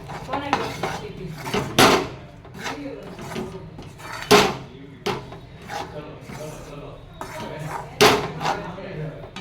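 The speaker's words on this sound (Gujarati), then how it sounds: "હવે આને થોડી વાર હલાવશું" Sukhdi mixture with jaggery stirred in a pan makes close, irregular metallic scrapes and clanks of a spoon against the pan, several louder knocks standing out.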